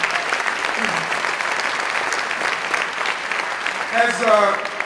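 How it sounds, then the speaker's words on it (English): Audience applause at a governor's State of the State address in Harlem, a steady wash of clapping from a large crowd that holds at moderate level throughout, with faint voices rising near the end. "please give her a round of applause for the leadership that she's providing"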